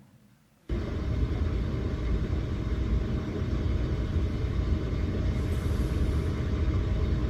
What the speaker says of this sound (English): This is the sound of our ICS lab in Boston.